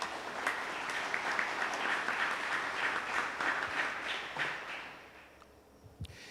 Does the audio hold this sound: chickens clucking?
no